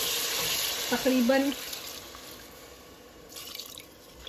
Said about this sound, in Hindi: 2 कप के करीब मैं पानी डाल दूँगी